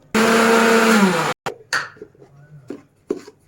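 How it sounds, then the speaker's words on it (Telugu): A loud mixer grinder grinding spices with garam masala powder whirs steadily for over a second, then stops; brief clatters and a short second burst follow. "ఇవన్నీ వేసుకుని ఇంకోసారి మిక్సీ పెట్టేసుకుందాం"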